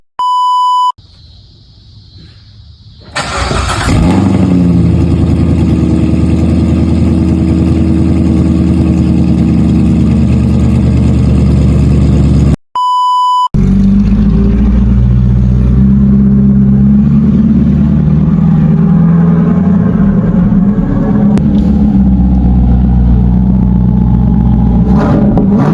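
Chevrolet Corvette C7 engine and exhaust rumble loudly and raspily, a steady deep drone broken by a short gap, opening with a few electronic beeps before the engine noise takes over.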